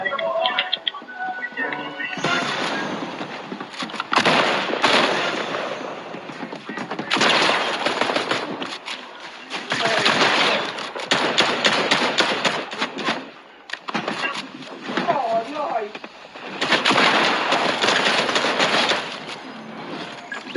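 Gunfire in Fortnite crackles in repeated rapid bursts, loud and close, broken by short pauses across the stretch, with a player's voice occasionally heard over the shooting.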